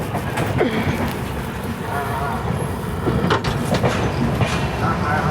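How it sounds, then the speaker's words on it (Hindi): Garib Rath Express rolling on its rails on a foggy run from Kishanganj toward New Jalpaiguri, with a steady broadband rumble and faint rhythmic clatter, muffled voices mixed in beneath the constant train noise. "7:58 पर हमारी ट्रेन निकली है किशनगंज से, और इसके बाद ट्रेन का नेक्स्ट स्टॉप होगा सीधा न्यू जलपाईगुड़ी।"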